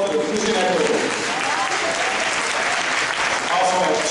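A concert audience at a Christian singing group's 40th anniversary tribute breaks into sustained, dense applause that fills the room and stays even and loud throughout.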